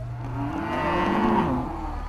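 Cattle at a livestock market in El Reno during a severe drought, giving a low drawn-out moo with a second lowing call over steady crowded background noise.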